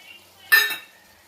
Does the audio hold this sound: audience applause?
no